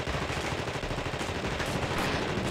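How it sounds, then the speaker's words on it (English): Rapid gunfire in the game The Thing rattles on continuously, dense repeated shots that sound like automatic weapon fire, loud and unbroken with no talking. "Gotta shoot this, and then shoot it more."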